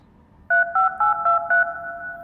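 A mobile phone keypad beeps out a quick run of five dialing tones, each a steady two-pitch chirp, ending in one held tone, close and clear over a faint background hum.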